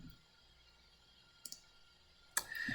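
Two computer mouse clicks, faint and spaced about a second apart, at a desk while working in photo upload software, with a quiet room background and no talking.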